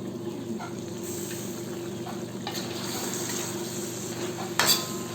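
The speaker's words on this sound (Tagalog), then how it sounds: "Takpan at lutuin natin ito ulit ng 3 minuto." Chicken adobo cooks under a lid in a pan, giving a steady close sizzle and frying hiss for the whole stretch, with a few faint clinks of the pan and utensils and one brief louder rattle near the end.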